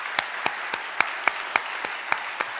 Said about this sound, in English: I'd like to ask everyone to please join me in a round of applause for the faculty here